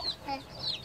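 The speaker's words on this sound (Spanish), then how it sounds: "Pero mira, están picoteando los pollos." Chickens clucking softly while pecking, a few faint, brief calls against a quiet outdoor background.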